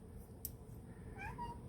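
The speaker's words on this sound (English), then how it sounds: "That's my cat, Mr. Bunsen." A house cat gives a short, faint meow near the end after a soft click, with quiet room hush around it.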